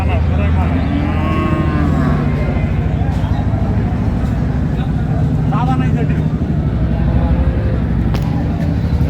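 Cattle, cows and calves, moo loudly and repeatedly at the crowded Ambari village livestock market (haat), under a constant din of people talking nearby.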